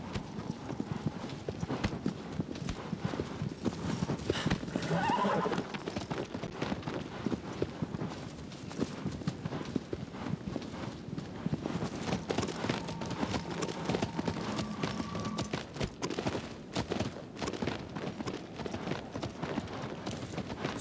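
Hoofbeats of the horse Agro galloping in Shadow of the Colossus, a steady rapid clip-clop running throughout at moderate level, with a brief whinny partway through and game ambience underneath.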